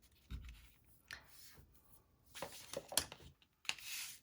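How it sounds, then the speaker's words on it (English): Bone folder pressed and rubbed along the fold of a handmade stamped card, several short scraping strokes close up, fairly quiet, with brief taps between. "Let's run a bone folder right here along the top of this one more time"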